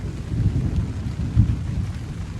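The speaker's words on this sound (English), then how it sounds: "Rolling thunder." Rolling thunder rumbles low and continuous during a rainstorm at a Boundary Waters campsite, swelling twice over a soft rain wash, with no speech.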